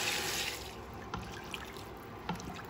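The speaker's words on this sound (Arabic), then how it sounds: "وهنضيف ميه مناسبه" Water poured over soaked Indian basmati rice in a pot while making meat mandi, a short close hiss of running liquid at the start easing into faint trickles and small drips.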